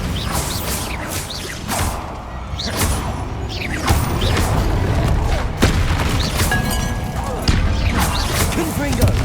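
In the video game Hogwarts Legacy, Bombarda and other spells go off as a rapid run of booming blasts and whooshes, one every second or so, mixed with game voices shouting spell names.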